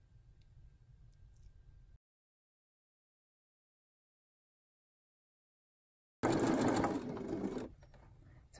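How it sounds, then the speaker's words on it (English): A sewing machine stitches binding down on a woven strappy tank top, with a low hum at first, then a pause, then a louder, faster burst of stitching close up. "And once it covers your stitch line, all you're doing is sewing it down."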